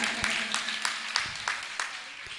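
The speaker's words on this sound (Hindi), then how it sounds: "एक बार उनके लिए भी जोरदार तालियां बजाएं।" An audience at a spiritual discourse claps in a sparse, rhythmic pattern of distinct beats about three per second, fairly quiet and close, with a voice faintly underneath.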